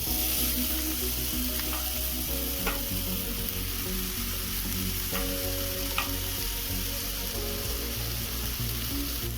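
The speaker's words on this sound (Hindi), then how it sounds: "तो अब डाल देते हैं यहीं पे पोहा जो धो कर रखे थे।" Washed poha frying with turmeric in a pan, a continuous close sizzle with occasional spoon-stirring scrapes and knocks over a steady low hum, no talking.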